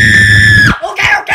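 A single loud, sustained high-pitched scream held steadily, then breaking off abruptly into short, harsh shouted bursts close to the mic.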